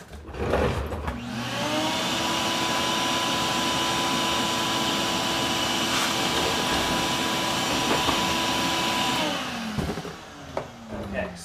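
A household vacuum cleaner switched on, drawing shavings, tile, a nail and drill bits into its nozzle; a loud steady motor whine with a harmonic drone runs about eight seconds, then winds down, with a brief voice after.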